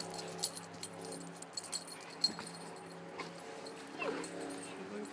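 A young dog of about a year whimpers and gives small high yips in a yard, faint and intermittent, with keys jangling nearby and people talking.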